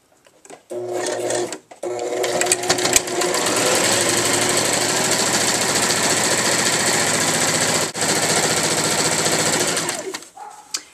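A domestic sewing machine stitches the elastic casing on a gathered skirt's waistband, loud and close, running in a steady fast whir with a brief start, a short pause and a stop near the end.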